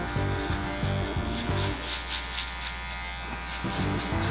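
Electric hair clippers buzz steadily up close while cutting a bald fade on blonde hair, with a low humming drone and rhythmic rasping pulses as they move through the hair; a voice talks faintly underneath.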